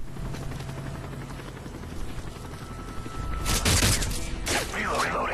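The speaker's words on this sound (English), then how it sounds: "Hurry, the helicopter's coming." Helicopter rotor noise from Call of Duty: Modern Warfare 3 Spec Ops grows louder, with bursts of gunfire on top and players talking over the game sounds.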